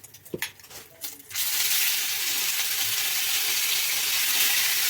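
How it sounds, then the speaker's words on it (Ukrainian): Meat for goulash hits a hot pan and breaks into a loud, steady sizzle that fills the rest of the moment after a few brief clattering handling noises. "м'ясо обжарюємо"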